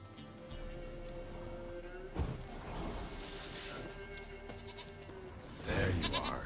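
A goat in the Witcher 3 video game bleats a few times against steady ambient background sound, with a louder bleat near the end.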